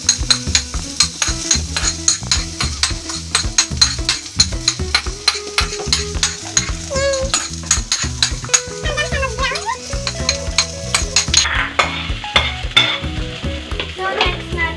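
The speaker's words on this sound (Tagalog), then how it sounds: "At isusunod natin ng ginger or luya. Yan. Igisa nyo na guys." Ginger sautéed in a pan for squid adobo, a continuous loud sizzle broken by rapid, rhythmic scraping and clinking of a utensil against the pan, close up and without talk.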